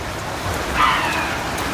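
Steady rain falls outdoors as a dense, even hiss of drops, moderately loud and constant throughout.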